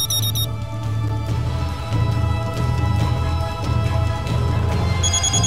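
A second mobile phone ringtone from Hyperdimension Neptunia Re:Birth 2, short bright electronic chimes at the start and again at the end, separated by a stretch of steady background music.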